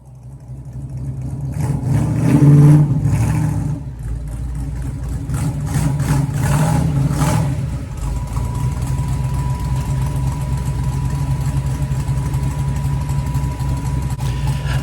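A car engine under line lock during a burnout, running a steady, droning rev that swells early and then holds a constant loud tone, with no talk.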